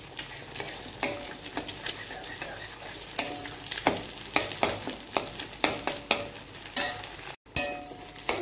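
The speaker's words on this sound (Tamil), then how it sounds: "இப்போ இதை நம்ம கிளறி விட்டுக்கலாம்." Idiyappam kothu with egg fries in a pan, a continuous sizzle broken by repeated scraping strokes of a spatula stirring it, the strokes irregular and close, with no one talking.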